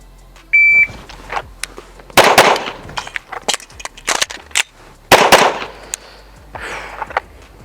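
Pistol shots at an outdoor range during low round count drills, several sharp close cracks in short groups separated by pauses, with a brief electronic timer beep before the first shot.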